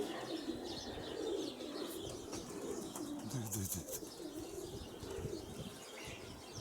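Pigeons coo and flutter faintly in the distance, with soft chirps and wingbeats over a quiet, breezy outdoor background.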